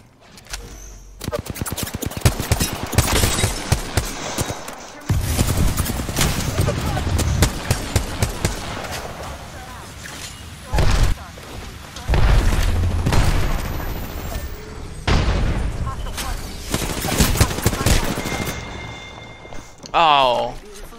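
Rapid rifle fire from a G7 Scout in a battle royale video game, bursts of repeated shots over dense game sound and speech, with pauses between volleys near the end.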